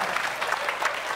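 An audience applauds for a former JKT48 and AKB48 member at a talk event, a dense, even patter of hands that holds steady for a moment.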